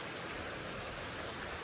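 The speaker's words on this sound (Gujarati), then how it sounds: "વરસાદ ચાલુ હો" Rain falls steadily, filling the short stretch with an even, close broadband hiss and patter that never breaks, with no voices.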